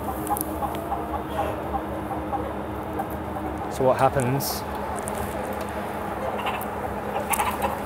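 Hens on an egg farm cluck and murmur in a dense, close chorus, with a brief burst of louder clucking partway through, while a person talks over them.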